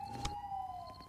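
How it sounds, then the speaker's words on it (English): A police car siren in the video game Apocalypse Rising wails as a single steady tone that slowly drops in pitch. It sounds faint and distant, with a soft thump partway through. "That police car sounds pretty close, guys."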